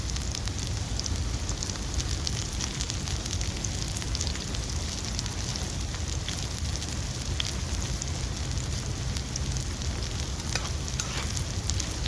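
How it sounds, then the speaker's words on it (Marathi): Chopped onions and finely cut green chillies sizzle steadily in hot oil in a pan for a squid masala, a constant close crackling hiss with no talk. "कांदाना मी परतून घेते आणि कांदाना आता मी लाल होसर चांगला परतून घेणार आहे"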